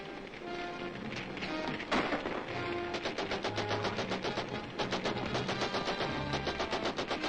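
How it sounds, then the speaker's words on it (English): Rapid gunfire rattles in fast bursts, with a sharp single shot early on, under a dense, noisy backdrop that continues throughout. "protect you from the gunfire"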